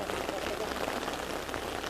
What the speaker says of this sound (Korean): 비가 많이 오네.